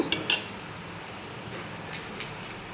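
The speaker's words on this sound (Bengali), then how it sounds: "এগুলোকে এবার আমি নাড়াচাড়া করে নেব" A spoon stirs dalia (broken wheat) in a cooking pot, with two quick, sharp clinks at the start, then a quiet background and a few faint scrapes.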